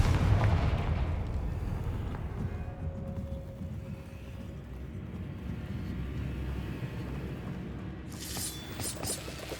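A Confringo fire spell bursts in Hogwarts Legacy, starting as a deep booming blast that rolls into a long rumbling tail, with a sharp crackling flare near the end.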